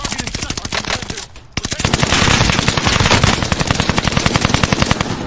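Rapid automatic gunfire in a video game shootout, sustained machine-gun bursts with steady fast rhythm, loud and close, a short gap then continuous firing, with faint voices underneath.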